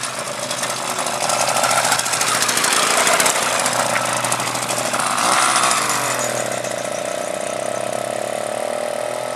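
A 66cc two-stroke engine on a motorized Schwinn bicycle, 3 to 4 hp, cold-starts and runs with a rapid loud rattling buzz, revving up and then settling into a steady idle nearby.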